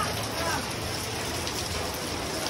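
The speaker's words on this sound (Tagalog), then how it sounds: "medyo maulan nga lamang" Light rain falls outdoors as an even, soft hiss of drops that holds steady throughout, with no clear voices over it.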